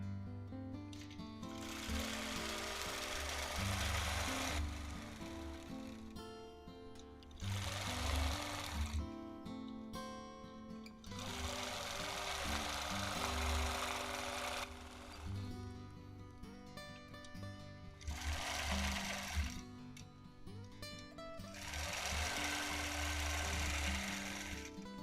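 A sewing machine stitches a quilt using ruler work, running in steady bursts of several seconds separated by short pauses as it starts and stops, with a consistent loud mechanical drone throughout.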